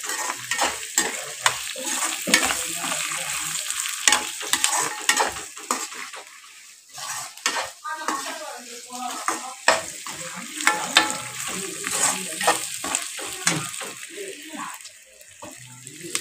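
Shelled field beans sauté in a pan, stirred briskly with a spatula, producing repeated scraping clatter over a low sizzle, close and busy throughout, with a faint voice now and then.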